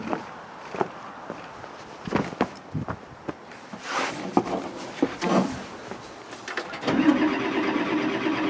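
A Link-Belt 2800 diesel engine with a hard-start problem cranks through several uneven bursts before catching and settling into a steady running idle, loud and close.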